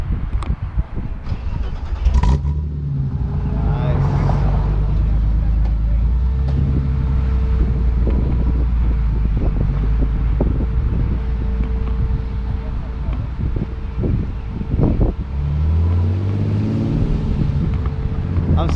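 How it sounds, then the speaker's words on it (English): A classic 1976 BMW 2002 drives along with a steady, low exhaust drone and engine rumble, loud and close, with wind buffeting the microphone and occasional voices over it. "Hear the exhaust sound."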